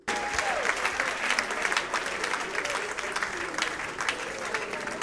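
Audience applause at a music awards ceremony, a dense steady roar of clapping from a large crowd lasting throughout, with a voice briefly heard at the start.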